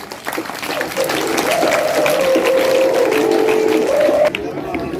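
A school audience in an Urdu high school quiz competition claps for the winners, loud dense applause filling the room, steady for about four seconds before dropping off, with a sustained tone and some talk mixed in.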